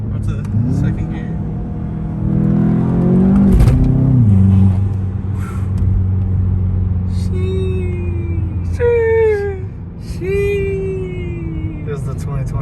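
A 2021 Volkswagen Jetta GLI accelerates with a loud in-cabin engine drone whose pitch rises through the gears and then eases off. Excited voices talk over the engine the whole time.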